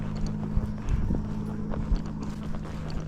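Steady clip-clop of a grey Missouri Fox Trotter's hooves at a brisk walk on a trail, close by, with a low background rumble and a faint voice at moments.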